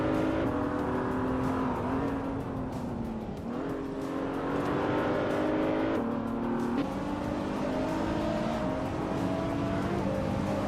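Sustained engine drone of race cars in a racing video game, steady and loud throughout with shifting pitch as cars jostle and overtake, no speech.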